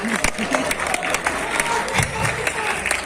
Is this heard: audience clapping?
yes